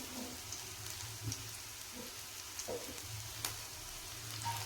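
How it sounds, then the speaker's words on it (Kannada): Aloo (potato) snacks frying in hot oil, a continuous soft sizzle and crackle close by with occasional small pops, quiet and steady with no talk. "ಇದು ಒಳಗಡೆ ಎಲ್ಲ ಫ್ರೈ ಆಗಲಿ."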